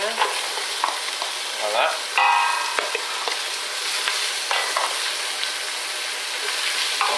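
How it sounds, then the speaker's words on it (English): Onion sizzles and crackles in melted butter in a hot pan, a steady frying hiss with scraping stirs and a brief clatter throughout; a voice speaks a couple of words near the end. "Now we're going to put our onion in."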